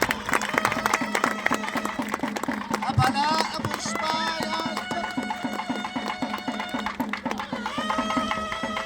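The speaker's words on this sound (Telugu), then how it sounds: "చప్పట్లు కొట్టండి అందరూ కూడా" An audience claps along during a Hindu ritual with chanted Sanskrit mantras, rhythmic hand claps in a steady beat beneath a singing, chanting voice that carries throughout.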